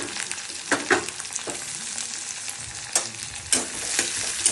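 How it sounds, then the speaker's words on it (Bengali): Onions fry in hot oil for an egg and poppy-seed steamed dish, giving a continuous close sizzle with periodic louder scraping stirs, no talking over it. "তাহলে পেঁয়াজ এইভাবে ভাজা হয়ে গেছে।"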